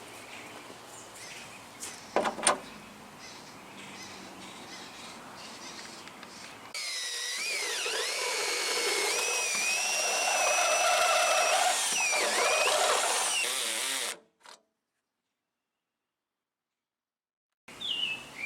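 A power drill with a step bit whines loudly and steadily for several seconds while drilling car body metal on a 1974 Chevy Caprice, its pitch dipping as it bites, then stops abruptly, followed by silence and a brief clatter.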